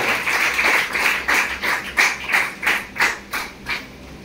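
Audience applause at an event welcoming guests, a crowd clapping in a strong pulsing rhythm of about a dozen swells that gradually fade out.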